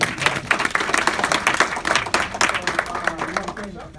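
Audience applause after a community awareness presentation on CBD by two doctors, dense clapping sustained for several seconds that gradually thins toward the end.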